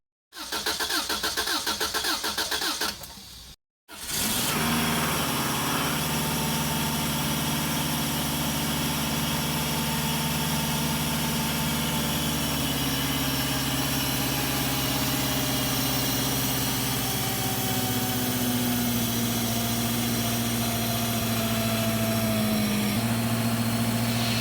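A 1994 Subaru Legacy turbo wagon with a newly fitted turbo cranks briefly, catches after a short pause and settles into a steady, close, even idle that holds to the end, with no voices.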